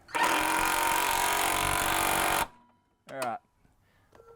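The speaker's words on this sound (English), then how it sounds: "I'm just bolting them in now" Power tool driving bolts into flat bar brackets inside a car during an intercooler install: a loud continuous whirring burst of about two seconds, then someone speaks briefly nearby.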